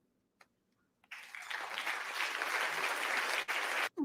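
A TED talk audience breaks into applause after a faint tap, a dense wash of clapping that starts abruptly, holds steady for nearly three seconds with brief dips, and sounds somewhat distant and quiet.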